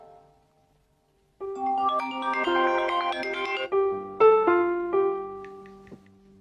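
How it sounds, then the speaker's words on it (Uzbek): A mobile phone ringtone plays alone after a moment of quiet, a bright repeating melodic tune at moderate volume that carries on for several seconds. "Telefon bo'lyapti"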